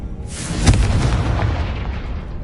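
A Confringo blasting spell in Hogwarts Legacy goes off as one loud, booming explosion with a sharp onset and a long rumbling tail that fades slowly, heard alone.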